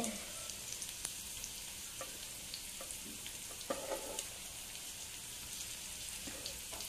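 Onions fry in a pan for Maggi noodles with a steady, soft hiss, broken by a few faint clicks and scrapes. The sizzle stays quiet and continuous from start to finish.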